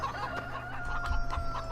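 Chickens cluck in Farming Simulator 15, a short run of close, repeated clucks and squawks over a faint steady background hum, with no talking.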